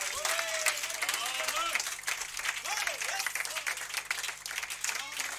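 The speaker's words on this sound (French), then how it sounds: "donnez-lui encore une bonne main d'acclamation" A church congregation applauds during a revival service, with steady clapping under excited shouting and vocal exclamations.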